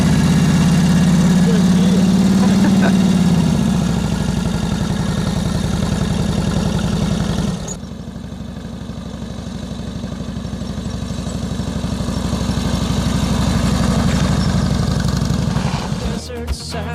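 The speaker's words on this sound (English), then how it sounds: "That's a 1942 Harley Davidson WLA with a dusting sidecar, and it's got reverse gear." A 1942 Harley-Davidson WLA motorcycle with a sidecar and reverse gear idles nearby, giving a steady, low, throbbing engine note. The tone dips slightly around midway, then holds at an even pace for the rest of the clip.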